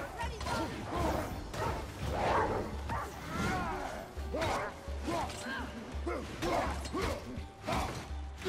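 A wolf barks and snarls amid fighting in the God of War video game, short calls scattered over busy combat clatter, with someone talking throughout.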